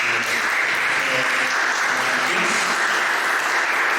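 Audience applause at a San Martin de Porres discussion event, a dense, steady clapping from a crowd that holds at full loudness throughout, with faint voices underneath.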